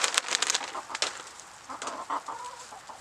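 Backyard chickens clucking nearby, a burst of loud overlapping clucks and squawks at the start, then softer scattered clucking.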